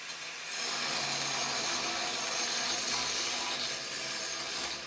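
A power tool cuts a groove wider in metal behind the tire of an old wood splitter, grinding steadily at close range with a dense, continuous roar for several seconds.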